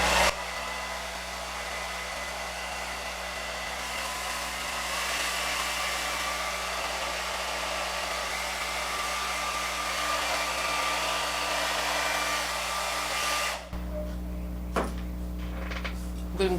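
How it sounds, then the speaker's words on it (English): A hair dryer blow-dries a forehead at close range with a steady, loud whoosh that shifts to a deeper tone near the end. "I'm just going to blow dry my forehead."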